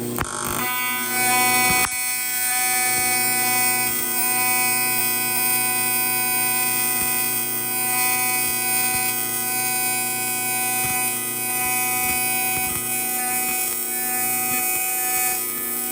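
Steady loud electrical buzz with a strong harmonic hum from welding intake piping on a 240SX with a 13B rotary engine swap, continuous and unbroken after a brief start, no talking.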